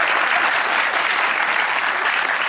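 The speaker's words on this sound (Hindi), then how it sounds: "इनके अब्बा के लिए तालियां।" Studio audience applause on a talk show, a continuous, even burst of dense clapping heard close and loud throughout, with no speech.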